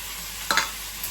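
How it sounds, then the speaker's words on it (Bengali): Fish frying in a pan for a Bangladeshi dish, giving a steady hiss of oil with a brief scrape or clatter in the middle. "এখন এই যে মাছটাকে ভেজে নিব"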